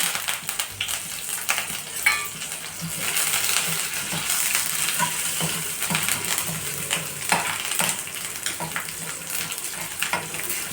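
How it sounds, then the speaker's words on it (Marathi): Cumin, garlic, green chili and curry leaves sizzle and crackle in hot ghee for a pulao, a steady close frying hiss with scattered pops and stirring clinks, no talking. "आता हे जिरं लसूण मिरची कढीपत्ता हे सोबतच टाकून देऊ"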